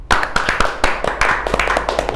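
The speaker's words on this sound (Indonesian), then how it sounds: "Buka tepuk tangan toh" A few people clapping their hands close by, quick uneven claps in a short burst, loud and dry, with no talking over them.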